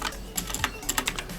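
A web address is typed into a browser on a computer keyboard. The short burst of brisk, close key taps has irregular spacing and sounds sharp and clear with no talking.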